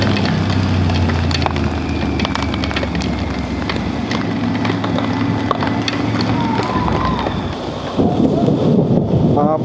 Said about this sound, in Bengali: বাপরে বাপ, বিশাল জোরে বৃষ্টি পড়ছে।